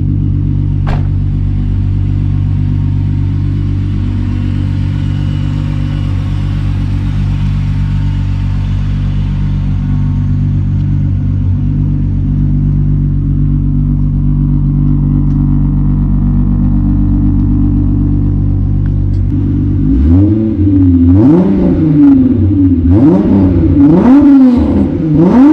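A car engine idles with a steady low rumble, then revs up and down several times near the end, loud and close.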